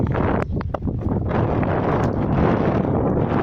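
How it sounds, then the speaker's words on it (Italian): Strong wind buffets the microphone on top of the Santu Damianu nuraghe in Sardinia, a loud continuous roar with gusting rumble and no speech heard. "la mia voce verrà coperta dal vento"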